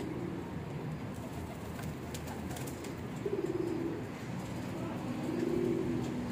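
Young pigeons coo in a few soft, low bursts against a quiet background, with a faint murmur of distant activity.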